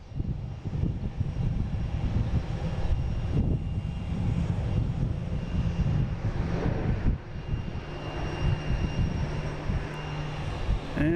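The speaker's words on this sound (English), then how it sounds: "next up we have Delta A330 coming in from Athens" A Delta Airbus A330 airliner arriving from Athens: a loud, continuous broadband engine roar that holds steady for over ten seconds, heard close and alone with no talking.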